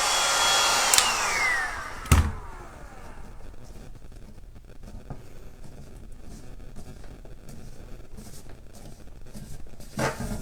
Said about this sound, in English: let's hit it one more time with the heat gun just to make sure that it's all in there nice and flat